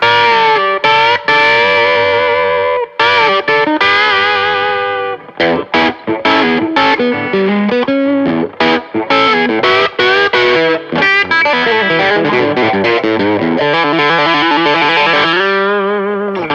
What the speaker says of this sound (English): I like the way that the Archer sounds with the boost going into the Tube Screamer